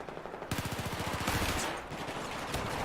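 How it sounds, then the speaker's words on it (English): Battlefield 4 gunfire during a 5v5 Domination match on PC, a rapid automatic burst of evenly spaced shots followed by scattered firing, mid-level and fairly close. "Big gunfight going on here on B."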